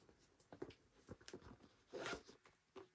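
A zipper on a handbag pocket is pulled open in short, quiet rasps, close by, with a longer zip near the end.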